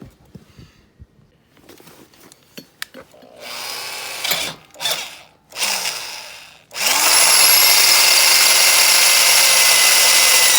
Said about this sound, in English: what I will be doing is getting the better drill